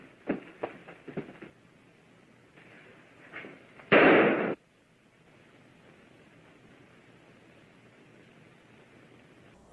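Gunshot from the 1936 film Reefer Madness: one loud, sharp broadband blast lasting about half a second, following a few quieter pops and scuffles over a low hiss.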